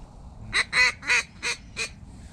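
Mallards quack near decoys in a series of five loud, raspy calls spaced about a quarter second apart, close and clear over quiet outdoor background.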